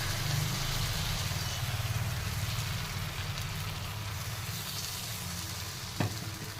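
Spicy ghavane batter fries in oil on a pan, a steady close sizzle running throughout with a single sharp knock near the end and no talking.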